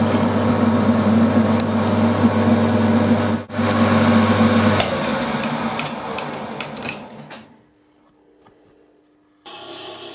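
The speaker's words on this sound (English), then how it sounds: "I've got a quarter milling cutter set up in a collet. We'll use that to put the hole in." A milling machine cuts a hole with a quarter-inch milling cutter held in a collet, the table feeding the work. A steady loud grinding whir runs several seconds, then drops to a quieter hum and stops briefly before resuming.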